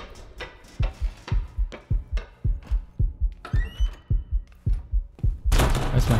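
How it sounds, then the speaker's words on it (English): A steady, rhythmic heartbeat thumps through the Observer video game, with about a dozen heavy, evenly spaced beats played close and loud. A burst of noise cuts in near the end. "Why is my heart beating?"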